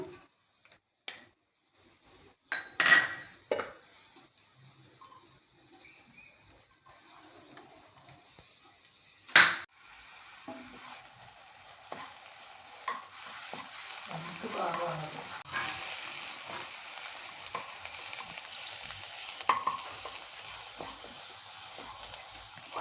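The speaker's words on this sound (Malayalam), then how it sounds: "സൂപ്പിനെ നമുക്കൊന്ന് മൂപ്പിച്ചെടുക്കാം" A fish soup sizzles as it roasts in a pan and gets stirred, a quiet start broken by a few sharp clatters of utensils before a steady soft frying hiss builds and holds with occasional scrapes.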